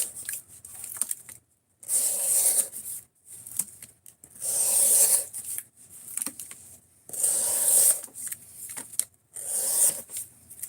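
A knife blade slices through cardboard in several long, close cutting strokes, each a dry hissing rasp separated by short silences.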